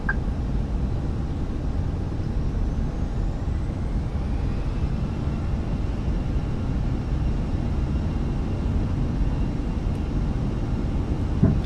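Airbus jet engines from Microsoft Flight Simulator 2020 sound during a go-around as a steady, loud low roar that continues unbroken the whole time, without talk.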